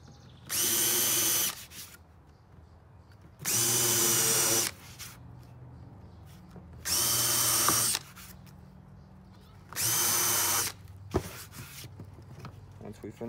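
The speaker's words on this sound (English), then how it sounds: "we'll hollow out the holes with this countersink or whatever it's called on the back so the screws sit flat inside" A power drill fitted with a countersink bit bores out screw holes in wood for a dumbbell wall rack, sounding in four loud, steady whirring bursts of about a second each, separated by quiet pauses.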